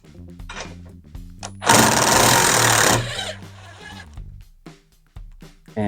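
A 15mm socket wrench works a bolt loose from the rear cage bar of a Can-Am Maverick Sport/Trail side-by-side, giving a loud, dense burst of ratcheting for about a second in the middle, with quieter tonal sounds and short clicks before and after.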